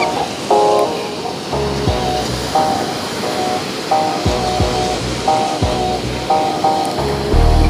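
Ocean surf washes onto Miramar Beach in Destin, Florida, a steady broad roar of breaking waves with brief tonal sounds rising over it at intervals.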